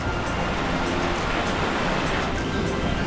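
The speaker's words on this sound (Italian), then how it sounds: "Da qui scorre un fiume" A river flows beside an old mule track at an abandoned mine site, giving a steady, broad rushing wash of water that stays fairly loud and even throughout, with no voices over it.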